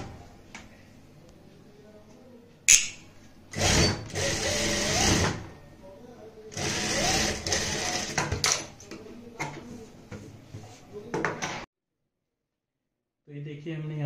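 A sewing machine runs basting stitches on a blouse front in several short bursts of whirring stitching, separated by handling noises and pauses, with a voice talking in between and a silent gap near the end.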